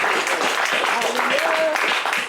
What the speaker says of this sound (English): Let's give y'all a big round of applause.